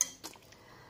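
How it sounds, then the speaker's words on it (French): A couple of light metallic clinks of a utensil against a pot while stirring veal blanquette sauce, followed by quiet scraping, brief and fairly soft. "je vais venir remuer en essayant de ne pas trop toucher le fond"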